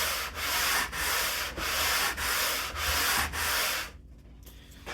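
A homemade barrel sander smooths channels in a wooden door moulding, copying an 1860s antique, with a steady rhythmic rasp in about five even strokes before it stops near the end.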